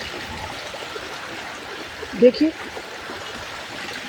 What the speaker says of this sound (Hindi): कितना पानी, कितना भयंकर नाला,